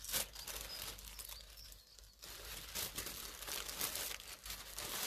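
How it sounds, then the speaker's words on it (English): Paper being torn by hand for a mixed media canvas, a faint, ragged crinkling and ripping texture in irregular bursts over several seconds, close by with no talking. "I like to tear it rather than cut it so you get uneven edges."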